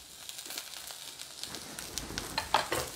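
Onions hitting a hot pan with beans and sizzling, a soft steady crackling hiss with scattered pops, faint and close, swelling slightly toward the end.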